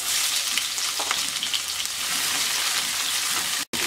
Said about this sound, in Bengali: এবার দিয়ে দিচ্ছি মিডিয়াম সাইজের 3টা পেঁয়াজ কুচি